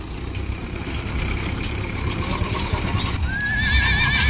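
Horses being brought by trolley to the Hanumangarh livestock fair whinny loudly near the end over a dense backdrop of hoof clip-clops and busy crowd and vehicle noise.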